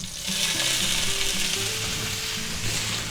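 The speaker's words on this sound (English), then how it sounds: "we're going to take our broccoli and put that in" Broccoli stir-frying in an oiled pan for a spicy beef and broccoli dish gives a loud, dense, continuous sizzle with a faint stirring rustle underneath, close by and with no voices.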